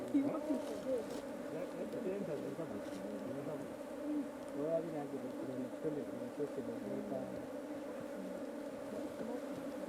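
A dense, steady buzz of many honeybees around an open hive during honey harvesting hums continuously, close and low, with occasional louder passes over the swarm.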